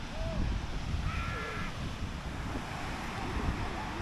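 Birds call at a beach in Umm Al Quwain, UAE, with a few short cries over a steady roar of surf and wind, no voices.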